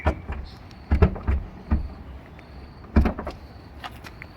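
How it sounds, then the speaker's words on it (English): Tailgate of a Mahindra XUV3X0 compact SUV being opened, a few clicks and thumps of the latch and hatch mechanism with a faint motor whine, close by and without speech. "Let's pop open the boot quickly."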